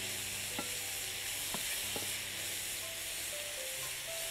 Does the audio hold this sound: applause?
no